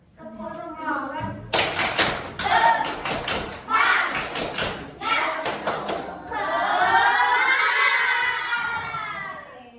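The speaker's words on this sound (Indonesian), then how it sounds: "Tepuk semangat." Primary-school class doing a rhythmic spirited clap in short patterned bursts with some shouting, followed by a teacher speaking.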